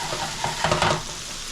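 Sausage fries in a pan with a maple syrup glaze, giving a dense bubbling sizzle that swells with a few quick stirring scrapes over a short span.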